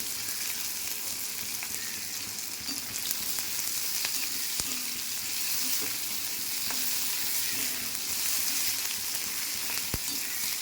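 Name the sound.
frying garlic, onion, green chili and potato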